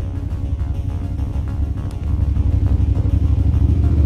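A 2019 BMW F 750 GS motorcycle being ridden gives a steady, dense engine rumble mixed with wind noise, growing louder and more pulsing about halfway through.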